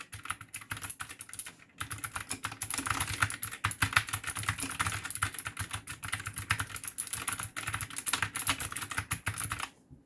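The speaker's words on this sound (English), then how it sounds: "Now the sound part, when you are typing things," Fast, continuous typing on a Geek GK61 optical mechanical keyboard, a dense clatter of crisp key clicks heard up close, with a brief pause early on and no talking.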